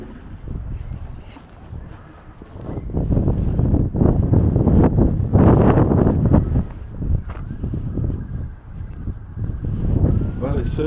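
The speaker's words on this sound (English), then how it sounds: "it's certainly a windy day down on the allotment today." Wind gusts over an allotment on a blustery day, buffeting the microphone in heavy, low rumbling surges that swell and ease, loud and close throughout.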